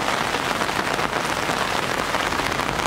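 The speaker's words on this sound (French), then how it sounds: "Antoine, la pluie c'est quand même légèrement embêtant pour voir les poissons" Steady rain pattering on the surface of a koi pond, a dense, even hiss of drops that stays loud and constant throughout with no voices.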